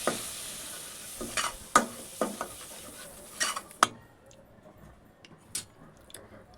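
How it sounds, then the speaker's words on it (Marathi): Butter and flour are stirred in a pan on the heat: a scraping spoon clinks and scratches against the metal in irregular strokes, with a soft sizzle underneath and no talking. "2 चमचे मैदा ॲड करते. चांगलं मिक्स करून घ्यायचं आहे."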